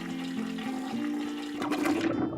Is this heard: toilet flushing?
yes